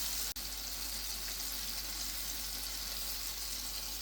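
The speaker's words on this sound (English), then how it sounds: "Deglazing a pan with some Sauvignon Blanc wine." Sauvignon Blanc wine hits a hot pan while deglazing, giving a soft, steady sizzle and hiss after a brief clink at the start, with no talking.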